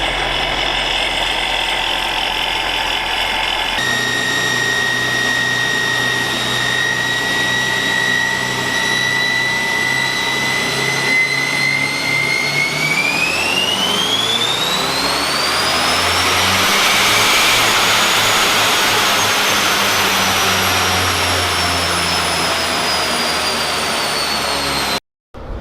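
A C7 Corvette engine fitted with a ProCharger supercharger runs on a dyno, a loud, sustained roar whose rising supercharger whine sweeps up midway, holds high, then cuts off abruptly at the end.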